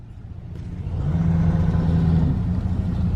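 A 1973 Mustang GT pulls away on a muddy track, its engine rising from a low rumble into a steady, loud revving drone that holds close by. No voices are heard.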